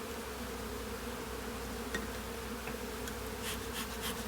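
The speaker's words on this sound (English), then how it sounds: "all the bees get mad at you" Agitated honeybees in a hive being moved from a double nuc swarm in a dense, steady buzzing drone close to the listener, with a few brief clicks and no voices.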